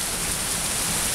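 Heavy rain pours down steadily in a dense, continuous hiss, loud and close, with no voices over it.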